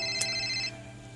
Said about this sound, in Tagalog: Nagri-ring ng cellphone ni Gilbert.